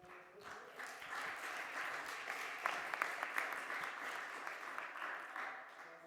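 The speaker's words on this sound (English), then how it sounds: "Round of applause, please." A conference audience gives a round of applause, with sustained, even clapping from many hands that rises quickly, holds for several seconds and tapers only slightly at the close.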